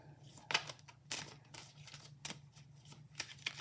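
A deck of tarot cards is shuffled in quiet, irregular bursts, with crisp riffling and flicking snaps close by against a faint background hum.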